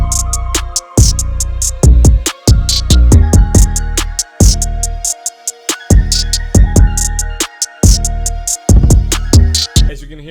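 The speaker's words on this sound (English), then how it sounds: "After the clap, I added the kick and 808." Booming kick and deep 808 bass hits drive an FL Studio rap and R&B beat, layered with rapid hi-hat ticks and a sharp clap, loud and bouncy with a faint melody riding on top.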